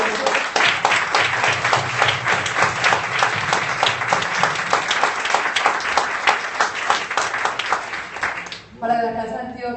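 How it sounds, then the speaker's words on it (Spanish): An audience applauds in honour of Otto Morales Benítez at the Casa de Antioquia: dense, sustained clapping for about nine seconds, then it stops abruptly and a voice begins speaking. "yo creo que ese aplauso sea mucho más fuerte, pues en honor a Otto"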